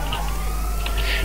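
A police siren wails steadily in the background of a video game chase, mixed with game sound and a low car engine rumble, with no talking.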